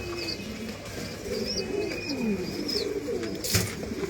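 Pigeons coo repeatedly at a pigeon farm in Mirpur, Dhaka, their low rolling calls overlapping near and far, with a few higher chirps and a brief louder burst near the end.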